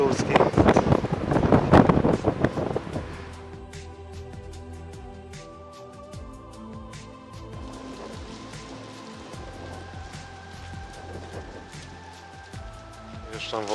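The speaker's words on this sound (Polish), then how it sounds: "Wieje bardzo mocno." Strong wind buffets the microphone outdoors on a hike, a loud rumbling gust at first that settles into a steady, lower roar under a person talking.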